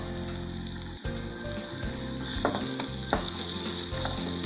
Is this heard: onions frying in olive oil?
yes